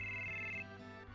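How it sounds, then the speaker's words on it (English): A telephone rings in Final Fantasy VII, a steady electronic tone that holds loud for about half a second and then cuts off, leaving game background sound. "Answer the fucking phone."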